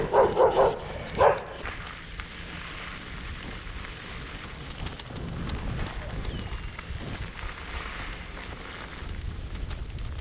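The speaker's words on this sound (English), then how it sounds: "The dog's barking." A dog barks a few times early on during a walk along the Cross Vermont Trail, fairly close, with a couple of bursts in the first second or so, then a steady rain-like background hiss continues.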